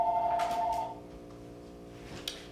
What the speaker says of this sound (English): the phone is ringing here